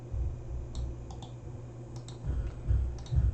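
Typing an IPv6 address on a computer keyboard, a sparse handful of light key clicks in small groups, faint over a constant low hum.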